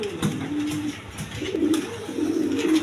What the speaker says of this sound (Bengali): এখানে 1 পেয়ার রাজগোল্লা কবুতর নিতে পারবেন